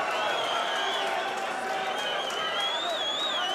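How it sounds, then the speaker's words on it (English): A boxing crowd at an amateur bout cheers and roars in a continuous, dense wash of voices, with scattered clapping and a commentator talking over it. "And the crowd enjoying the moment."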